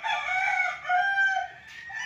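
Game roosters being trained at a farm in Liliw, Laguna let out overlapping crows, one rising after another in quick succession, near and clear with no one talking.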